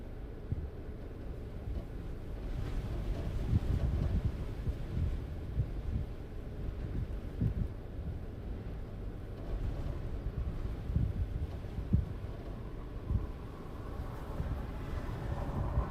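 Strong wind during a storm chase in Nebraska buffets the microphone in heavy low rumbling gusts, steady and loud throughout with no clear talk.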